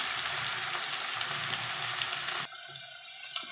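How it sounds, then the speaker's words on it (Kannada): Whole spices (cloves, peppercorns, cinnamon and poppy seeds) fry in a pan for a simple veg curry, making a loud, steady sizzle that drops to a softer hiss partway through. "ನೀಟಾಗಿ ಫ್ರೈ ಮಾಡ್ಕೊಳ್ಳೋಣ ಇವಾಗ"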